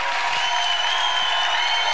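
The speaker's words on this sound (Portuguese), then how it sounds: "Uma salva de palmas para Manuela." Studio audience of a late-night talk show applauds a newly elected congresswoman, giving steady, bright, hissing applause. A faint tonal hum runs underneath the clapping.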